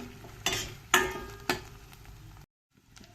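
Onion with ginger garlic paste being stirred in a frying pan, with three distinct scraping strokes over a soft sizzle before it goes quiet.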